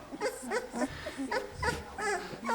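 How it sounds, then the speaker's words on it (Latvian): Sixteen-day-old puppies whimper and squeal in a box, a run of short high cries repeating close up in quick succession. "Jāras un Obeliksa kucēni 16 dienu vecumā."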